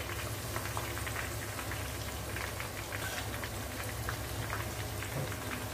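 Sliced raw plantain chips deep frying in hot oil, a dense, continuous close sizzle and bubbling that stays even and loud throughout.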